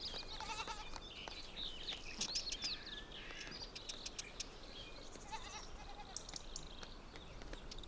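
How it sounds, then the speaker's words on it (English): Spanish ibex in the rut on a mountainside produce faint bleats and calls, with birdsong mixed into a steady outdoor background. "The Spanish ibex are in the rut."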